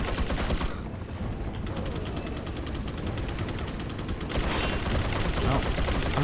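Rapid, continuous gunfire in the video game Resident Evil 4, dense repeated shots with a steady rhythm throughout, loud and close, layered with other game sounds.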